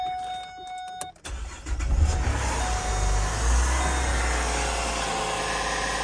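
An abandoned car's engine cranks briefly, then fires and catches, settling into a loud, steady rumbling idle that runs close by to the end with no talk.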